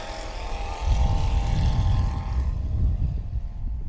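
A STOL airplane at the Swamp STOL competition in Jennings, Louisiana, roars with a steady, loud propeller drone after takeoff, holding strong through a go-around climb with no talk over it.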